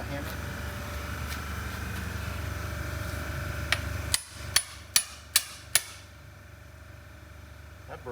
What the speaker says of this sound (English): I have a hammer.